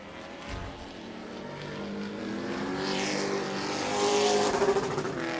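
Pro trucks race at Auburndale speedway during qualifying, a single engine roaring louder as it approaches and climbing in pitch as it accelerates past, with no talking.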